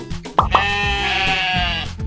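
A sheep bleats clearly in a Sepedi farm-animal lesson, a single sustained, wavering bleat lasting nearly two seconds, close and fairly loud, preceded by short bumps, with no talk over it.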